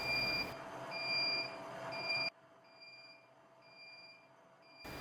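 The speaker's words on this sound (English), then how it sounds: "The machine starts beeping a minute before the set time ends." An Elgi Ultra Perfect plus wet grinder's timer sounds a steady run of evenly spaced high electronic beeps, loud over the motor's hum and then fainter after the motor cuts off.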